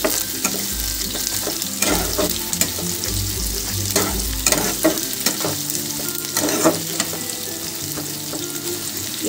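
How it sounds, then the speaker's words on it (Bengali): Chopped onion frying in a pan for a shapla recipe, with a steady sizzle and repeated stirring scrapes and clatters running throughout, close and fairly loud, no talking. "পেঁয়াজটা একটু ভাজা হোক"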